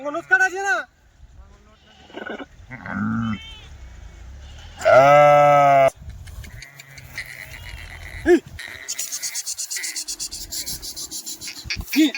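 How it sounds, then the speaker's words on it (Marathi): A sheep gives a loud, drawn-out bleat up close, with a couple of shorter bleats later, amid people talking and rustling outdoor noise. "बघा मित्रांनो मेंढ्या बघा"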